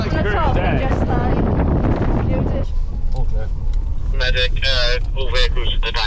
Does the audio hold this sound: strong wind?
yes